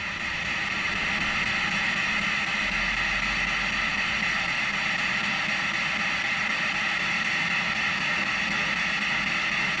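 Continuous radio white-noise static, a loud, even hiss with a faint hum underneath, running unbroken from start to finish with no voices.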